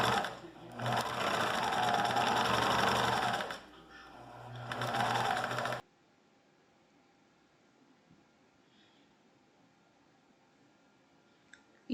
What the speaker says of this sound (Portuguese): Agora, a gente vai passar uma costura reta em um lado.